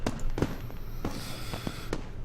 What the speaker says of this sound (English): lights the sky high above the school with another loud boom. Fireworks.